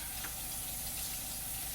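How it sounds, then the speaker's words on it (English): Hands are washed under running tap water at a kitchen sink, a steady close rush of flowing water lasting a moment with no break and no talk. "let me wash my hands"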